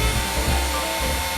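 A power drill bores through nut shells for a Christmas garland, a steady close whirring drone with a slight grinding edge that holds for the whole moment, with no talk.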